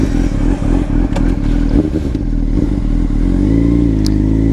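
A 2005 Honda CBR 600 RR motorcycle engine runs loud and close, with a steady low drone, several brief clattering transients and a rising rev toward the end.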